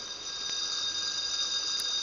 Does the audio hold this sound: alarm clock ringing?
yes